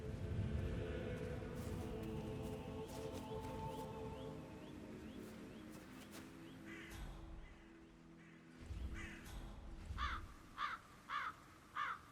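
Crows cawing in the Hitman video game's Dartmoor level, a series of harsh, distinct caws toward the end over a quiet ambient background, with several short repeated calls.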